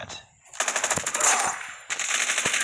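Rapid machine gun fire rattles in sustained bursts in a Call of Duty ranked match, loud and close, with a short pause between two strings of shots.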